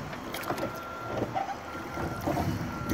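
Oars working a rowboat on open water while heading toward a dock, soft rhythmic splashes and knocks repeating every second or so under steady wind noise, close to the microphone.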